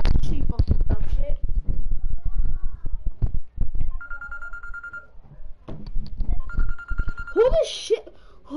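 A mobile phone ringing in a room, a short repeating electronic tone heard twice at moderate volume beneath loud, continuous chatter from several people.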